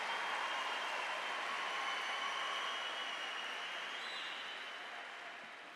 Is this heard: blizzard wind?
no